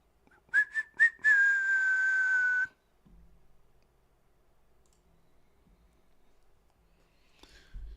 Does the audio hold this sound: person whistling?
yes